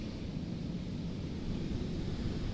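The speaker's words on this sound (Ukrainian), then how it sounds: "ви мені скажіть, ви чуєте, як вітер?" Strong wind roars and buffets the microphone in a steady, close rush of noise outdoors in a village, with no voices.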